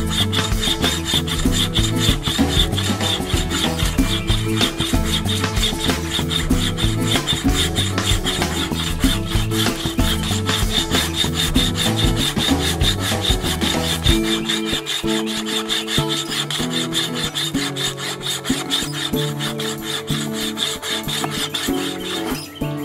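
Rhythmic back-and-forth rasping of a paracord bracelet saw cutting through wood, steady strokes close by with a change in pitch partway through, no talking.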